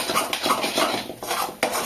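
Egg halwa laced with rose water is stirred in a pan. A metal spoon scrapes and knocks against the pan in quick repeated strokes, close and fairly loud, with no talking.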